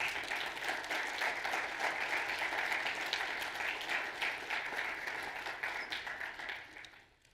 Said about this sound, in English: give them a round of applause for them being there